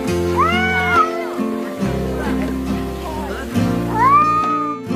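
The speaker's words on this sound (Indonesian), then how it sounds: "kucing akan mengeluarkan suara menggeram saat berkelahi dengan kucing lainnya" Cats growl low and steadily while fighting, broken by rising, drawn-out yowls, close and loud.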